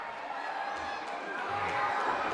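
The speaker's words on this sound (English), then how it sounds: "Listen to the crowd. They sense a title change near." Wrestling arena crowd buzzing with anticipation of a title change, a continuous murmuring roar that swells slightly toward the end, heard from a distance with low thumps underneath.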